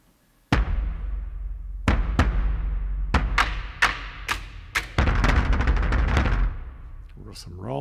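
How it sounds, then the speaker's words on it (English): Deep, booming low percussion hits from the Hans Zimmer Percussion library in Komplete Kontrol land one after another at an irregular pace, each loud and resonant with a long decaying tail, and a denser cluster of strikes comes near the end. "And then we have the low booms."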